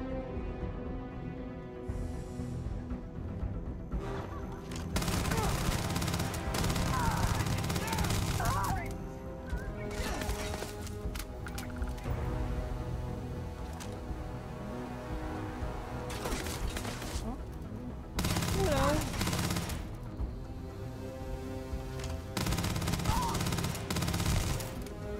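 Gunfire in the video game Starfield comes in repeated bursts of rapid automatic fire, loud and close, separated by quieter stretches of game sound.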